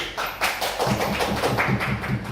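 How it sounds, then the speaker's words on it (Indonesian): A group claps their hands together in a quick, rhythmic, patterned beat, close and fairly loud, with no talking over it. "Tepuk tangan buat kelompok DIY."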